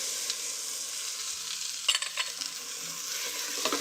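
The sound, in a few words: tomato paste and tomatoes browning in a pan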